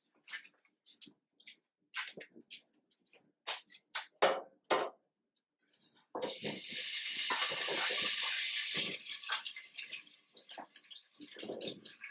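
Sparse clicks and light crackles give way to a loud, sustained sizzle of potatoes frying in hot oil in a pan close by.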